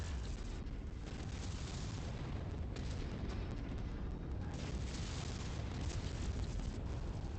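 A destroyed mech explodes in the MechWarrior 5: Mercenaries video game, producing a sustained loud roaring blast rumble that fills the whole stretch, with no talking.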